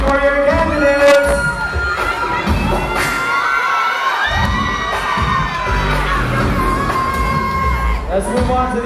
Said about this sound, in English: Cheer for your candidates.